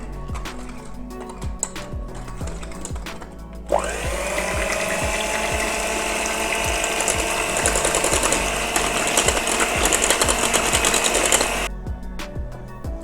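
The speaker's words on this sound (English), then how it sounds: "now we add the eggs, 3 eggs, complete eggs first, and then you can whisk slowly" An electric whisk beats three whole eggs into a chocolate mousse cheesecake batter, kicking in abruptly with a steady whirring buzz for about eight seconds before cutting off, with light clicks and knocks before and after.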